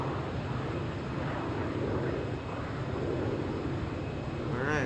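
Airplane in flight heard from inside the cockpit, a continuous loud rumbling engine and airflow drone with steady broadband roar, a voice murmuring faintly beneath it.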